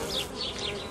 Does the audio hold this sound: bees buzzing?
yes